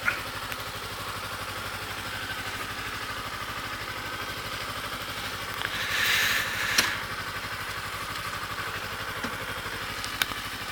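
A motorcycle engine idles steadily at close range while the bike is parked on an uneven road surface, a continuous low mechanical rumble with a brief clatter near the middle.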